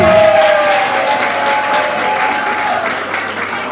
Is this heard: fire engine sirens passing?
no